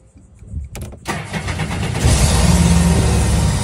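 A Sea-Doo personal watercraft engine cranks with a few clicks and stutters, catches after about a second, and settles into a loud, steady, rising roar close by while another motor idles.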